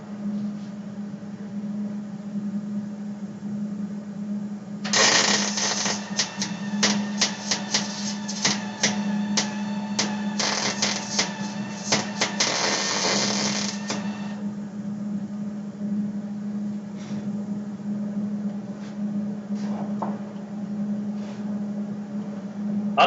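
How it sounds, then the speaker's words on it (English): A MIG welder makes plug welds on sheet metal at low wire speed, giving a close, crackling, sputtering buzz with irregular pops for about nine seconds over a steady low machine hum, then fading to scattered ticks. "As you can hear that welder there, it was actually struggling a little bit."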